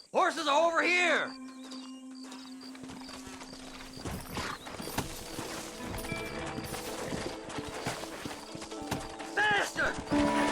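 Horses clip-clop through a Red Dead Redemption scene, hooves beating in a steady close rhythm under game music and effects, with a voice briefly heard at the start.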